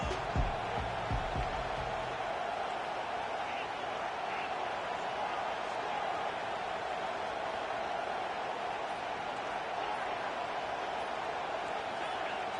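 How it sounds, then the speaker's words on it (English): A football stadium crowd makes a continuous, steady roar behind the defense on third down, distant and broad, with a few low thumps at the start. "Decibels rising as the crowd gets behind this defense on 3rd down"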